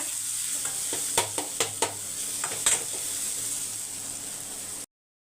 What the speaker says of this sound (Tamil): இப்போ பாருங்கள் நல்லா வறுபட்டுச்சு ஒரு பாதி வெங்காயம் வதங்கினா போதும்